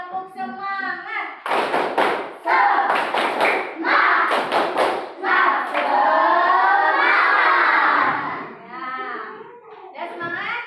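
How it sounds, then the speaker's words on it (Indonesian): A school class does a spirit-clap routine together: bursts of rhythmic group clapping and thumping hands in several quick sequences, loud and near, with children's voices and a teacher's voice between the claps. "kita tepuk semangat dulu yuk"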